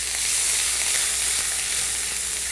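Yellow asafoetida powder and fresh ginger sizzle in hot oil in a pan as they are stirred, a continuous, even hiss with no talking over it.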